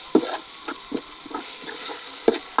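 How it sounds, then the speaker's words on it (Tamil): Ginger, garlic and shallot paste frying in oil for a village-style chicken curry, a low sizzle broken by several sharp stirring scrapes against the pan, close up and without voices. "இஞ்சி பூண்டு சின்ன வெங்காயம் 3 சேர்த்து அரைச்ச பேஸ்ட்டை போட்டுக்கலாம்"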